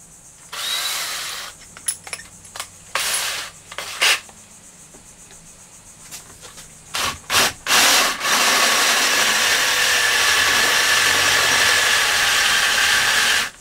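A power drill with a bigger bit bores into a fiberglass lawn mower part. Short bursts of whining and grinding come in a stop-start rhythm, close by, then settle into one long continuous run.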